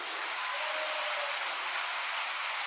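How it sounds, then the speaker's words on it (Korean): Sustained audience applause fills a hall at a vigil prayer gathering, a dense, steady wash of many hands clapping with no pauses and no voices standing out. "큰 박수를 보내주시기 바랍니다"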